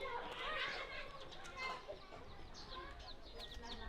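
Chickens cluck and call nearby in Bontoc, Philippines, while people talk in the background, short bird notes scattered across the clip.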